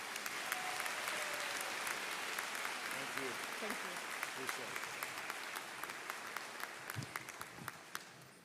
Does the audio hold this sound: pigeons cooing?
no